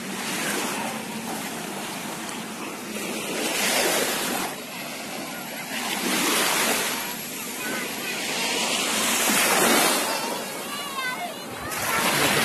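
Warm sea waves roll in along the Gulf of Siam shore at Pattaya, a continuous broad wash of surf that swells and recedes in slow surges at close range.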